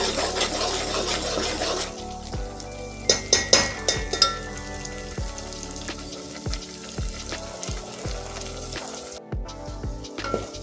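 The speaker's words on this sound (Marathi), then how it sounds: "आता हा मसाला भाजून याला तेल सुटेपर्यंत आपण थोडंसं तेलामध्ये तळून घेणार आहोत." Masala for mutton rassa fries in oil over a medium flame, a close continuous sizzle with scattered clinks and scrapes of a spoon stirring against the pan, no voices.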